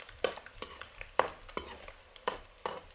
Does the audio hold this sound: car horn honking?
no